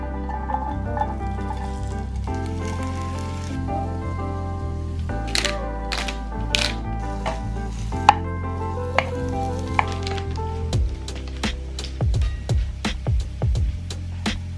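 Chicken with spring onion fries in a pan with a steady close sizzle under light music, and a few sharp clicks and taps near the end.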